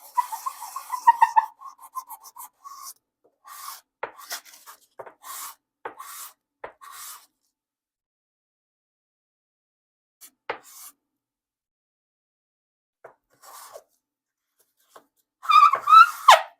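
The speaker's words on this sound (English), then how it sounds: "So I guess I'll top it and just sand the whole pipe." Sanding a Weber Bulldog tobacco pipe with 320-grit sandpaper, close, dry rasping strokes in short bursts with pauses between, a dense run at the start and another at the end.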